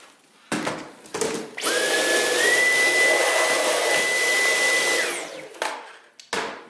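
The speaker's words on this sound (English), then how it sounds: "So that's just something to note. So we're going to put this on boost, and we're going to suck up" Dyson V11 Animal cordless vacuum switched to boost and sucking up debris, a loud steady high-pitched whine held for several seconds before spinning down, with short bursts and knocks before and after.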